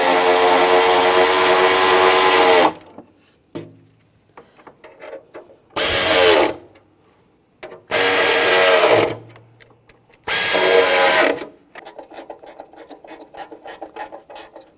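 A power tool tightening exhaust manifold bolts on a 2013-2016 Dodge Dart, running in four loud bursts of about one to two seconds each, separated by pauses and quieter handling noises.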